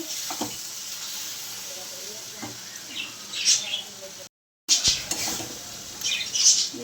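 Stirring kochur loti with prawns in a frying pan: the spoon scrapes and clinks against the pan while a soft sizzle carries underneath, broken by a short silent gap, close and moderately loud.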